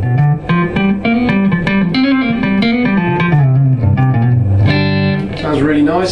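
Electric guitar, a Suhr Guthrie Govan Signature on the neck pickup, with a warm, rounded tone playing a run of single notes and chords, ringing out with some reverb.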